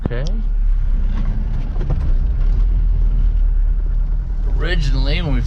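A 1971 Mercedes 220D diesel car drives along with a constant low engine rumble and road noise, loud and close from inside the cabin, while people talk over it.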